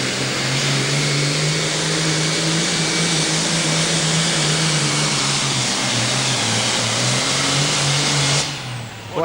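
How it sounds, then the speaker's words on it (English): Super Farm pulling tractor at the 2008 NTPA Grand Nationals in Brandenburg, Kentucky, its engine roaring loud and sustained with a wavering pitch for the whole run, cutting out abruptly at the end. "watch the best in NTPA tractor pulling"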